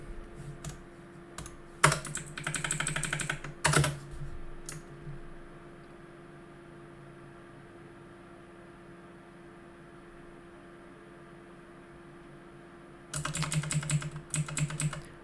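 Rapid bursts of clicking keystrokes on a computer keyboard during programming, two clusters early on, then a long quiet stretch with a faint steady hum, and another fast flurry of typing at the end.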